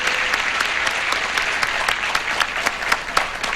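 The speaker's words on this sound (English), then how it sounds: "Now you can applaud yourself." A television game show studio audience applauds steadily, a thick continuous wash of clapping with a few sharper claps standing out, loud and close throughout.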